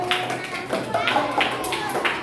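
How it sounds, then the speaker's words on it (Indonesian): Students in a classroom applaud a group of classmates after a presentation, with rhythmic claps at steady intervals over a busy room and voices underneath. "Tepuk tangan untuk kelompok 3."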